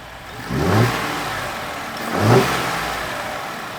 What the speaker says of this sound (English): let's fire up the engine, make sure everything runs right